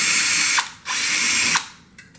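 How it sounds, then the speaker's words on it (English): A power driver removes a fastener from the rail of a vinyl cutter, giving two loud whirring bursts with a ratcheting edge, then a couple of faint clicks as it stops. "You just remove this fastener. I'm going to remove it real quick here."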